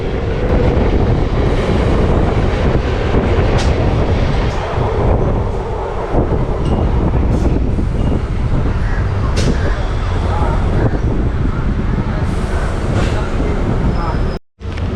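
A local train running from Howrah to Midnapore, passing another local near Mourigram, fills the cabin with a steady, loud rumble and rattle that continues throughout, with a brief dropout near the end.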